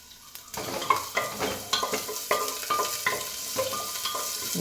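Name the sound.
frying ginger, garlic, cinnamon, cloves and cashews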